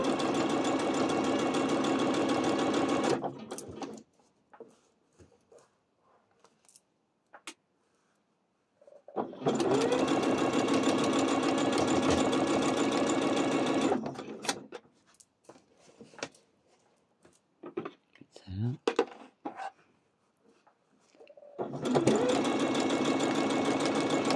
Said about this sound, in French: Ça fait pas trop de bruit la machine.